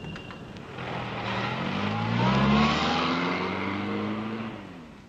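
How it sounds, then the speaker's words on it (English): Car pulling away outside a hotel at night, its engine rising and swelling as it accelerates, then fading as it drives off, heard alone. "You seemed very interested in the car, Paul."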